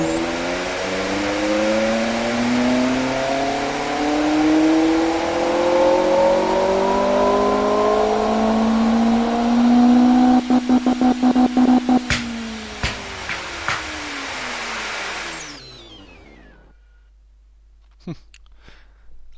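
A car engine with a 7,500 rpm redline revs hard and climbs in pitch over and over, loud and close, with a rapid crackling burst near the end before it cuts off to near silence.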